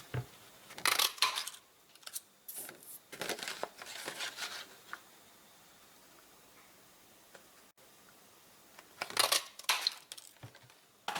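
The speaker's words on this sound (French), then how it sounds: "la petite astuce pour pouvoir les découper facilement avec la perforatrice" A paper punch cuts petal shapes from stamped paper in a card-making craft session. There are several crisp clacks and crunches, close and fairly quiet, in small clusters with quiet gaps between them.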